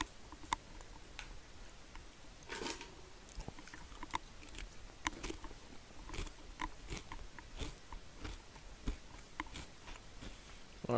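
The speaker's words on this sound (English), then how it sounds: "Alright, sorry about the noise, I've been eating." Close, quiet chewing and crunching with irregular soft ticks and bites scattered over about eleven seconds, no talk.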